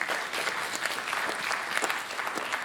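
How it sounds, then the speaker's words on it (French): A seated audience at a French school prize-giving ceremony applauds steadily, a dense wash of clapping that holds at an even level throughout without pause. "on peut l'applaudir"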